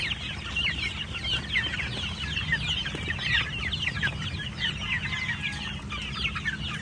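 Young chicks about a month old and grown chickens cluck steadily on a farm, with many overlapping chirps and clucks at moderate distance, over a constant low background hum.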